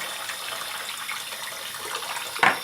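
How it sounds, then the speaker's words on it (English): Lukewarm water runs steadily from a tap to rinse out a can for home-made wine, a soft continuous gush that ends in a brief louder splash. "We're gonna use lukewarm water to rinse out these inside this can, so we're not wasting any."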